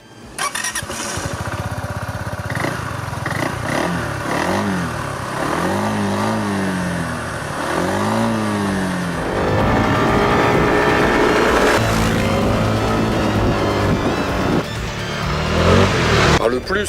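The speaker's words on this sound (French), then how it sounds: "Le plus de ce Downtown 350, très clairement, c'est sa capacité d'accélération départ-arrêté." A KYMCO Downtown 350 scooter accelerates hard from a standstill, its engine note rising in pitch through several surges and continuing loud and close, with a voice talking over part of it.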